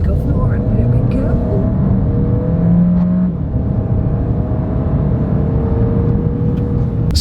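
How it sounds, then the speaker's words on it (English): A 2025 MG HS accelerating hard under kickdown, the engine and road roar building steadily from inside the cabin with a rising engine note, loud and continuous throughout. "Well, I'm going to kick down now."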